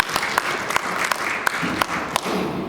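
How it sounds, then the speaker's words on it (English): An audience claps at a cowboy symposium's chuck wagon cooking storytelling session, a loud, steady burst of applause from a crowd for a few seconds with sharp individual claps standing out. "Round of applause, isn't that cool?"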